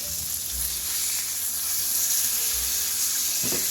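Steak sizzling loudly in a hot pan as it is flipped over, a continuous bright hiss of frying fat with low thumps and clatter of the pan close by.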